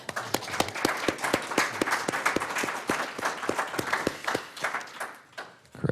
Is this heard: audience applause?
yes